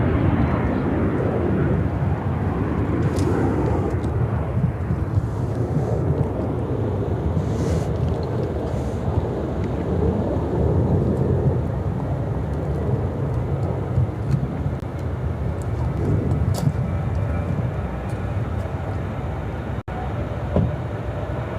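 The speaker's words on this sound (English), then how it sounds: "United Airlines 2635 taking off to Charlotte on the MAX 9." A United Airlines Boeing 737 MAX 9 climbs away from Chicago O'Hare, a steady broad jet engine rumble holding loud and constant throughout with no talk.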